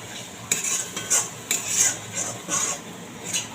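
A spice paste for a vegetarian fennel-and-pointed-gourd dish is sautéed and stirred in a pan. A metal spoon scrapes rhythmically against the pan in repeated strokes over a soft sizzle, close and clear.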